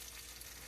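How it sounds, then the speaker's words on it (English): Pork chops fry on medium heat in a pan, giving a steady, even sizzle that stays loud and constant with no talking over it. "Gonna keep on frying them on medium heat."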